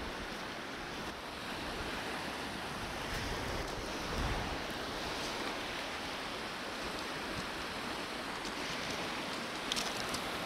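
Steady wash of small waves breaking on the Ammersee lakeshore in bad weather, with constant wind noise rushing over the microphone throughout and no voices.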